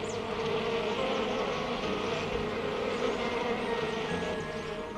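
Insects such as bees buzz around flowering plants in a dense, continuous hum that stays fairly loud and steady throughout, with no voices over it.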